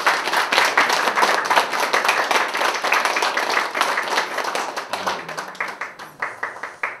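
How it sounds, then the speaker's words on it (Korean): Congregation clapping in a Korean church sermon for God's glory, loud, fast and rhythmic, close by, with many hands striking in rapid succession before thinning into a few scattered final claps. "하나님의 영광의 박수 올립시다."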